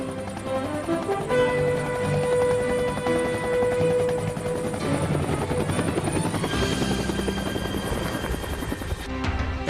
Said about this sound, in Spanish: Su característico sonido clop, clop, clop, clop dio origen a la denominación chopper